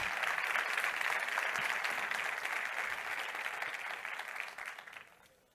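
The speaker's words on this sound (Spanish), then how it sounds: "un fuerte aplauso" An audience bursts into steady, dense applause to welcome a speaker at a Saturday-morning talk on a new economic model, the clapping sustained and close throughout before slowly thinning toward the end.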